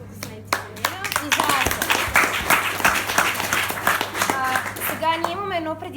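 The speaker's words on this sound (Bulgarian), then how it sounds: "Аплодисменти за нея." Applause from attendees at a sales training event, a burst of sharp individual hand claps building into steady clapping over about six seconds, with people speaking over it near the end.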